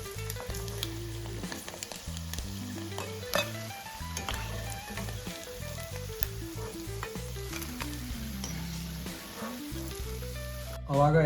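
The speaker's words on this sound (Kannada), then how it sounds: "ಅದನ್ನೆಲ್ಲನೂ ಫ್ರೈ ಮಾಡಿ ತಗೊಂಡ್ರಿ. ಫ್ರೈ ಮಾಡ್ಕೊತೀವ್ರಿ." Pieces of egg dipped in batter sizzle steadily in hot oil for egg chilli, a constant quiet frying hiss with occasional stirring clinks, heard close alongside a background tune.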